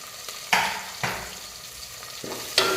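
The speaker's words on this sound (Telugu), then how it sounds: "ఓకే, పచ్చిమిర్చి కూడా ఫ్రై అవ్వాలి మంచిగా ఆయిల్లో" Green chillies frying in hot oil in a pan, a continuous sizzle broken by several sharp bursts as the chillies are stirred, close and fairly loud with no talking.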